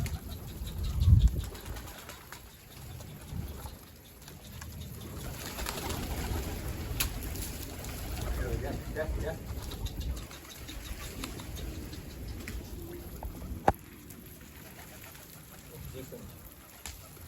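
Pigeons cooing and fluttering their wings nearby, with outdoor background noise and occasional voices underneath.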